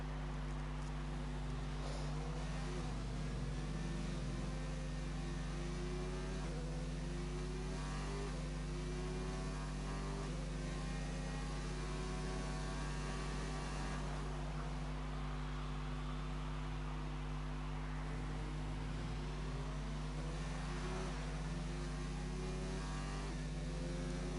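Racing car on a flying lap at the Brazil circuit in a PS4 racing game, a faint, thin engine drone that rises and falls through gears over a steady low hum, with no one talking.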